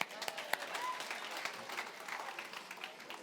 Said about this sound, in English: Let's clap for the few hands